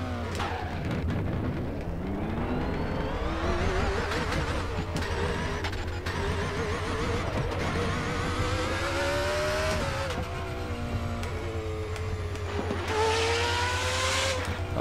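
Manual-gearbox race car in the RaceRoom Racing Experience game, its engine loud and continuous with rising revs, repeated upshifts, some tire squeal and a final surge of acceleration, with no voices over it.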